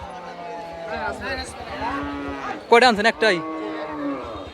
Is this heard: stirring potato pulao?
no